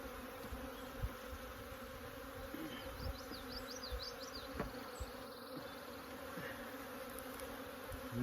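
Honey bees buzz steadily around their hive during an outdoor spring check, a dense continuous drone with a few individual bees passing close by.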